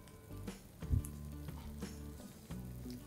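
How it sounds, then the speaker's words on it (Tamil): Onions sizzle quietly in a pan with ginger-garlic paste, a soft crackling fry broken by a few stirring knocks and light clatter, close but low in level. "அந்த இஞ்சி பூண்டையும் இந்த வெங்காயத்தையும் நல்லா வறுக்கலாம்"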